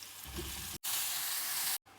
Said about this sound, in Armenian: տապակում ենք մեր սունկը,